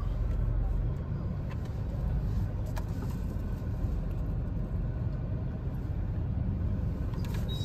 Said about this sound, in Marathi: एवढे छोटी गल्ली आणि त्यात कार आणि समोर रिक्षा